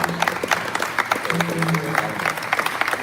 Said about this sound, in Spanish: quiero pedir un aplauso